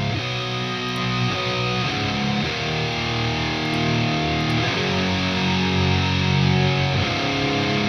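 Heavily distorted electric guitar from a track plays alone, a dense, saturated wall of sound with ringing harmonics and steady chord changes sustained throughout.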